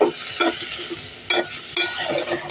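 Fish fried with egg in a pan sizzles steadily at close range, broken by several sharp scraping stirs of a utensil against the pan.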